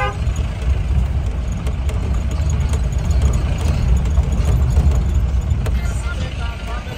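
An older Mahindra Thar taxi's engine runs with a steady, loud low rumble from up close, continuous throughout with faint background noise and no clear gear changes.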